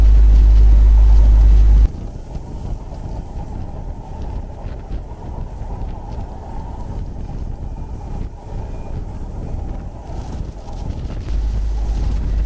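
A train rolling along at speed, the Madhumati Express with new coaches, a steady loud low rumble and rush continuing throughout, with a harder thump at the start and another surge near the end.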